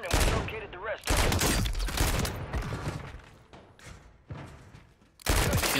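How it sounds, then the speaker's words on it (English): Heavy pistol shots from a Call of Duty match ring out in loud, separated bursts with booming impacts between them, and a voice talks in the gaps. "This fucking pistol hits hard as fuck."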